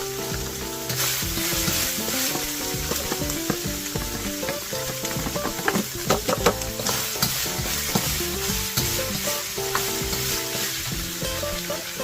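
Chili and garlic fry in hot oil for Thai pad kra pao with ground beef, a dense, continuous loud sizzle with occasional stirring clatter, close up.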